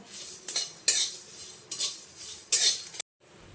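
A metal spoon scrapes and clinks against a pan as fried whole spices such as panch phoron, cumin and coriander are lifted out, four distinct scraping strokes in quick succession with short pauses, then silence.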